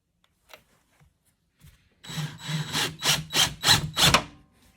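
A hole saw cuts a 2 inch hole in copper sheet for a moonshine still, starting after two faint taps with a loud rasping grind that pulses in about five surging bursts, then stops abruptly.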